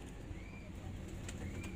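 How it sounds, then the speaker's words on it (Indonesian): Pet pigeons coo softly in a loft, low burbling calls repeating over faint background noise. "Ini bos, merpatinya bos."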